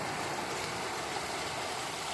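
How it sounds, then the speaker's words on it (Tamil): A village stream flows at a pond outlet where fishing nets are set, giving a steady, close rushing hiss with no pauses. "பார்த்தீங்கன்னா இங்கே தான் தண்ணியெலாம் ஓடுது"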